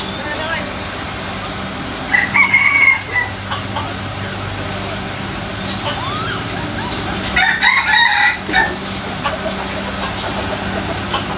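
A rooster crows twice, loud and fairly close, over constant low background noise and a steady hum.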